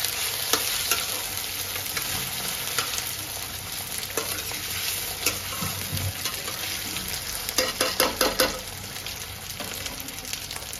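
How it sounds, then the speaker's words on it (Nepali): Potatoes frying in a pan, a steady close sizzle broken by repeated scraping stirs, with a burst of quick stirring strokes near the end. "गाइस मेरो आलु चाहिँ यतिको फ्राई भइसकेको छ।"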